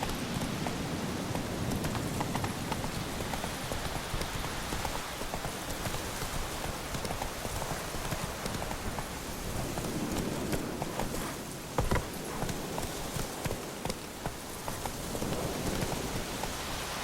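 A horse trots in The Witcher 3: Wild Hunt, its hooves making a steady, rapid clip-clop that runs continuously over a noisy background.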